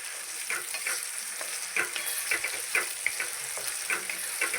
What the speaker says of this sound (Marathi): आता त्यामध्ये आपण जे वाटण वाटून घेतलं होतं ना ते टाकून घेणार आहे आणि ते छान हे तेलामध्ये परतून घेणार आहे